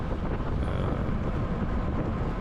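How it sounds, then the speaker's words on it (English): Strong, gusty wind buffets the microphone at an outdoor cycling circuit race, a continuous loud low rumble with no talk over it. "we're trying. And the other factor here is very, very windy. It's, super duper windy."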